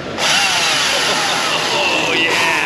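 EGO battery-powered 12-inch trim chainsaw revving at a busy outdoor equipment expo, a loud close motor whine that rises and shifts pitch while running steadily.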